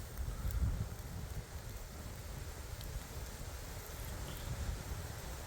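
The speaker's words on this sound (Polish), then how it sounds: "Uj, a wiatr dzisiaj daje ładnie" Strong wind gusting through a forest in October, a steady broadband roar with rustling and microphone buffeting, continuous and fairly loud throughout, no talk.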